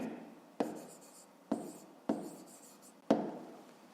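Pen writing on paper while working a square's perimeter formula in a fifth-grade maths exercise: four distinct scratchy strokes at a steady pace, close and quiet, with no talking.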